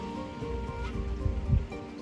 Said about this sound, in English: You can probably hear it's still kind of raining